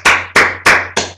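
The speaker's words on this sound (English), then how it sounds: "please, give her a round of applause" Four loud, evenly spaced claps, roughly a third of a second apart, close to the listener and with no voices. They come as a show audience sends off a departing guest in Savonlinna, Finland.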